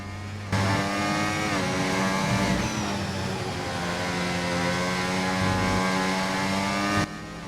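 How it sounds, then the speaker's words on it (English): A Formula 1 car's engine in the racing game F1 24, suffering an engine failure: a loud, steady harmonic drone whose pitch sags and wavers before dropping out abruptly near the end. "We've had an engine failure."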